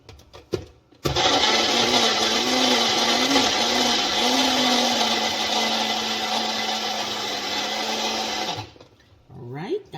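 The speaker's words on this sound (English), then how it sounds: "I'm going to just blend up my plantain here" A blender whirs steadily for about eight seconds, loud and close, as it purees soft ripe plantain for oatmeal porridge, with brief clatter before and after.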